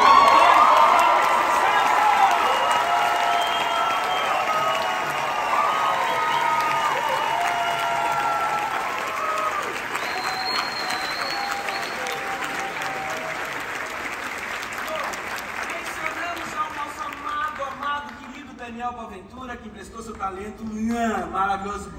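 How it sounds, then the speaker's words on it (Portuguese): Theatre audience applauding at the final performance of the musical The Addams Family, a dense, sustained wash of clapping with some cheering that thins and fades toward the end into scattered claps. "Já pedi salva de palmas, querido, aplaudir Daniel, pode aplaudir."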